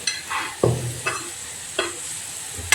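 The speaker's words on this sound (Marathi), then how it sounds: "आता चहा अधूनमधून असा एकदा हलवायचा आहे." Tea simmering in a pot on the stove, stirred now and then, with a soft bubbling hiss and several distinct spoon scrapes and clinks against the pot, close and fairly quiet.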